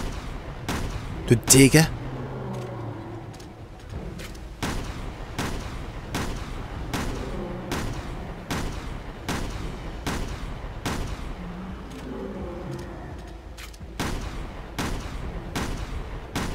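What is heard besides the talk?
shotgun firing in Resident Evil Revelations 2 video game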